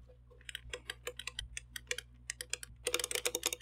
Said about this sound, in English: They're very clicky, very satisfying to press.